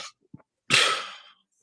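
A single sharp sneeze bursts out close by after a quick intake of breath, then fades quickly into silence.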